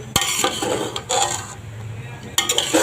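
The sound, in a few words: stirring chicken fried rice in a pan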